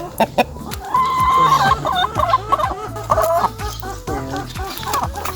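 A hen clucks repeatedly and loudly at close range while being bathed in a pineapple-juice and shampoo wash, with short splashes and handling noises between the calls.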